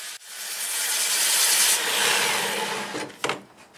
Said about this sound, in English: time to sand it, and I'll be using a 2-inch disc, starting with 80, and we'll sand to 400